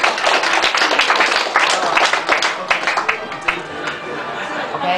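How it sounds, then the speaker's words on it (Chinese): An audience at a graduation thank-you banquet breaks into sustained, dense applause, many hands clapping at once with crowd chatter mixed in throughout. "请大家跟他掌声一下"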